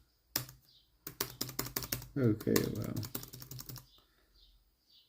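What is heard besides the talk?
typing on ThinkPad T480s laptop keyboard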